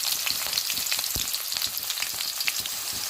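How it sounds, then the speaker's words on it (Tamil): Sliced onions frying in hot oil, a steady close sizzle with scattered crackles and a few stirring scrapes, no voices. "இப்போ இதுல வெங்காயம் போட்டுக்கலாம். வெங்காயம் நல்லா பச்சை வாசனை போற வரைக்கும் நல்லா வதக்கிக்கலாம்."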